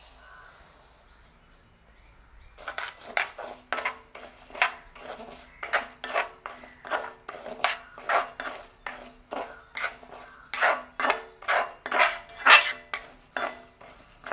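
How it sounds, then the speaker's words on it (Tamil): Toor dal goes into a pan and is dry-roasted. After a brief quiet start, a utensil scrapes and stirs the lentils in steady, rhythmic strokes against the metal, close and fairly loud. "அதே சட்டியிலே நாங்கள் துவரம்பருப்பை சேர்த்துக்கொள்வோம்."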